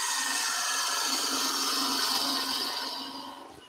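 A wood lathe spins a staircase spindle while a spindle gouge cuts it, a loud continuous hissing, rasping shave close up that eases and fades near the end.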